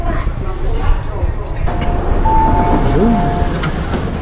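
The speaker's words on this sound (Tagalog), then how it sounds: "So, hinihintay lang natin yung ating tren, guys." A train arriving at a station on the way to Ngong Ping in Hong Kong, with a steady rumbling hum, a few faint tonal squeals and whines as it draws in, while people talk over the noise.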